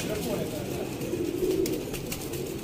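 Golden pigeons kept by pigeon fanciers in Sialkot coo softly and continuously among a loud, busy background, with a voice faintly talking alongside.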